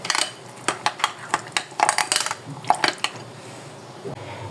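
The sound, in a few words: mixing biryani masala with orange food colour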